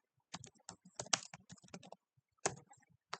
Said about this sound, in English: we have to just press Control F on your keyboard in order to search for the fields